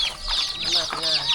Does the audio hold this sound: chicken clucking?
yes